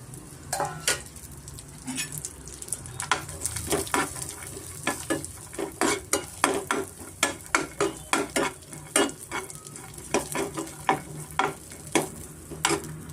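Cashews, raisins, pistachios and almonds stir-frying in ghee in a pan over medium flame, a steady sizzle broken by many sharp scraping clicks of a spoon against the pan, close and busy throughout.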